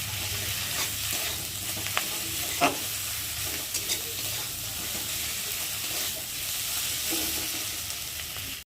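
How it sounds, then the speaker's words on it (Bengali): A spice paste with chilli powder, meant for a spicy braised meat dish, is sautéed in oil and stirred, giving a continuous close sizzle broken by scraping stirs and a few sharp spatula knocks against the pan. "আর লঙ্কার গুঁড়ো দিয়ে মশলাটা ভালোভাবে কষিয়ে নেবো।"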